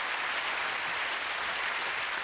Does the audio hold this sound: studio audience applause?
yes